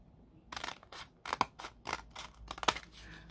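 Scissors snip through paper sheets for a junk journal, a series of quick, close, crisp cuts in uneven bursts, about eight snips with short pauses between them.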